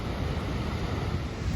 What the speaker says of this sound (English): Wow, that is an impressive waterfall.